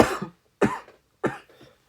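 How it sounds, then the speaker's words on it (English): Three sharp coughs come in quick succession, close and fairly loud, separated by brief pauses. "Apologize for my cough."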